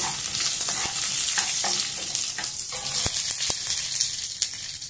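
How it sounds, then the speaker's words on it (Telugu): Curry leaves and garlic frying in hot oil give a constant bright sizzle, with a few spoon scrapes and taps against the pan, close up and alone without speech. "కొంచెం కరివేపాకు, కొంచెం వెల్లుల్లి కొంచెం కలర్ వచ్చేంత వరకు వేయించుతాము."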